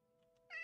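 A Minecraft cat meows once, a short close call that bursts in after a quiet stretch with faint background tones.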